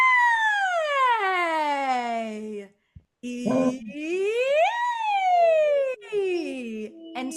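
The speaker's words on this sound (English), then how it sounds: "So we're going to do a vowel siren." A singer demonstrates a vowel siren, the voice gliding smoothly from low to high and back down in long sweeping slides, with a brief spoken vowel and short pause between glides, close and clear.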